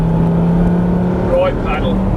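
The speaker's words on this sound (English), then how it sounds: "So accelerate up the hill now." A Lamborghini engine pulls uphill under acceleration, heard as a loud, steady drone from inside the cabin, with a brief voice near the end.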